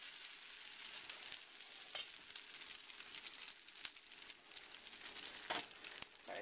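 A coconut flour pancake frying in a thin layer of oil gives a faint, steady sizzle with scattered crackles and pops, close by and without talk.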